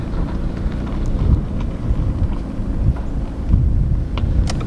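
Ford Fiesta driving, with a steady low road and engine rumble and wind buffeting throughout, heard from inside the car with no talk.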